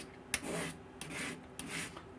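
A kitchen knife drawn across a sharpening stone makes three quiet, separate abrasive strokes, each a soft gritty swish starting with a light click of the blade, spaced about half a second apart.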